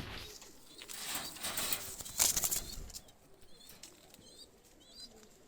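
A Pakistani high flyer pigeon is released, its wings flapping in a burst of close, fluttering beats over the first few seconds, then fading to quiet with a few faint chirps.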